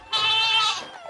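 A person imitates a goat with a single drawn-out nasal bleat, loud and close, lasting under a second before trailing off into quiet.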